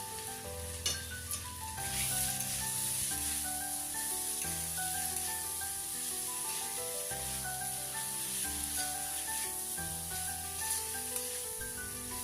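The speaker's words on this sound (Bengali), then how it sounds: "এবার ওর মধ্যে দিয়ে দেব সিদ্ধ করে রাখা ছোলা। মশলার সাথে খুব ভালোভাবে নেড়ে চেড়ে" Boiled chickpeas fry with chana masala in a pan, a steady close sizzle with stirring scrapes throughout, while background music plays underneath.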